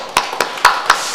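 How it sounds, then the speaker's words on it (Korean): Brief, sparse claps at a church Sunday service in Gunsan, a few sharp hand impacts spaced across a second against a quiet room tone, thin and not a full sustained applause. "우리 박수로 한번."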